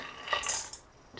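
Cashews dropped into ghee in a pan, a brief bright clatter of nuts hitting metal followed by a soft rattle and quiet settling.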